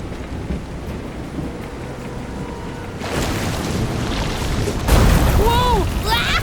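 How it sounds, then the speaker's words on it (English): Thunderstorm at sea in the video game Visions of Mana: steady rain and rumbling, with a louder thunder boom near the end over game sounds, and a voice talking over the weather. "This is some storm."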